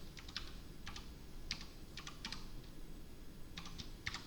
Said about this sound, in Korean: 타자 연습하느라 이렇게 칠 수도 있는데